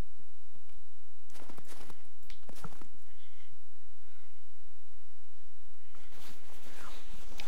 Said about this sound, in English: Hang on, I can hear footsteps